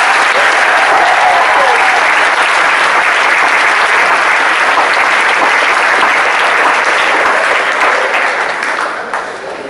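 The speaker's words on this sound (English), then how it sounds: "But let's give another round of applause to Mr. Manning for the dance." Audience applause at a school convocation after a dance performance, a sustained dense roar of clapping across the whole stretch that tapers slightly at the end.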